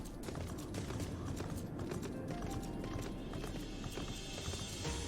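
Robotic horse mount hooves in Final Fantasy XIV, a fast, steady clip-clop of galloping footfalls, close and continuous over a dense game backdrop.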